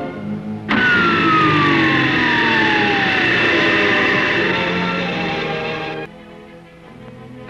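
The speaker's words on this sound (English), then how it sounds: "This test involves the brake dynamometer." A brake dynamometer tests the brakes of the 1955 Lincoln Futura concept car, a loud, sustained mechanical whine and screech with a steadily falling tone that cuts off sharply, leaving a lower hum.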